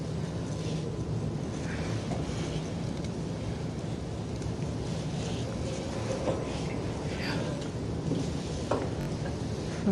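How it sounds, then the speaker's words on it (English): Iowa thunderstorm, steady rain hissing outdoors with low rolling thunder rumbling underneath, fairly faint and continuous throughout. "this is an Iowa thunderstorm"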